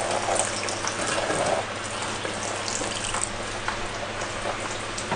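Water gushing and splashing steadily from a tap or outlet, a continuous broadband rush that stays fairly loud throughout with small surges and no voices.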